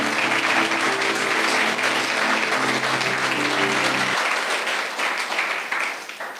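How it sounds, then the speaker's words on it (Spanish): A church congregation claps loudly and continuously, a thick roar of hands over a low sustained tone that cuts out partway, after which the applause alone slowly thins. "Fuerte el aplauso al Señor."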